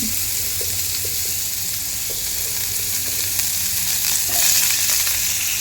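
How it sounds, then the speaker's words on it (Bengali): Chopped onion dropped into a pan of frying potatoes sets off a steady, close sizzle, with hissing that swells slightly toward the end. "পেঁয়াজ কুচি দিয়ে দিচ্ছি আমি।"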